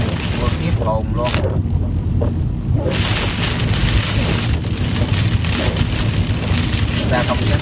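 Torrential storm rain beating on a car travelling slowly along a road at night, a loud constant roar of drops on the surface over engine and tyre rumble, with brief swells of heavier spray.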